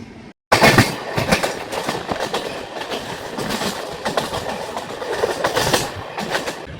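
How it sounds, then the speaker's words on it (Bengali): The Ajmer Express rolls past near the Katni section, loud and close, with a rapid rhythmic clickety-clack of wheels over rail joints filling the clip after a brief quiet start. "কাটনি সেকশন থেকে এই ট্রেনটা বেরোচ্ছে"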